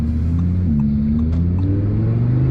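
A 2024 Audi R8 supercar engine drones loud and close from inside the car, its pitch stepping as the gearbox automatically downshifts, with road rumble underneath and no talk.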